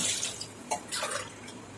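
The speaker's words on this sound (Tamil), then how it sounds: "ஒரு டம்ளர் அரிசிக்கு ஒன்றரை டம்ளர் தண்ணி ஊற்ற பாருங்க" Water is poured into a pot of rice for chicken biryani in a home kitchen, giving a short, close, splashy trickle with a few distinct drips and gurgles.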